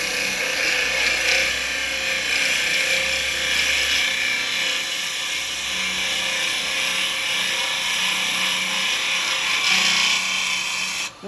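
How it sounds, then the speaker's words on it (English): Woodturning lathe hollowing a large segmented lidded sweet jar with a 12mm round carbide tool, a continuous bright scraping whir with a few low rumbling surges, alone and close. "I've just got to use the 12mm round at the moment."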